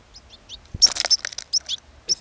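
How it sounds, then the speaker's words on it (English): A curious young goldfinch perched on a camera gives short, high, bright chirps, a few faint at first and then a close burst of quick tweets with brief gaps, heard without speech. "it's a goldfinch. It's kind of landed on my shoulder"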